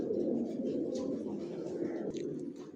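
Racer pigeons cooing softly in a loft, a low continuous murmur of coos at a distance with faint background sounds.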